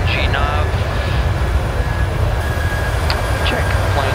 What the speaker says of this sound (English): Plane is accelerating.